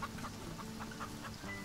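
Chickens in the farming game Farm Together cluck softly in a series of short, quiet calls over a steady background hum, with no one talking.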